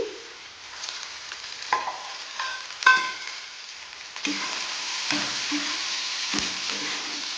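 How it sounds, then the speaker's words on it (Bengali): Fried broccoli and onions being stirred in a pan, with intermittent clatter and scraping strokes over a sizzle that grows steadier in the second half, close and moderately loud, no talking. "একটু নেড়ে চেড়ে নিলাম"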